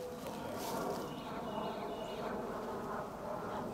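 Bees buzz in a continuous, faint, steady drone around a top bar hive, with no talk over it.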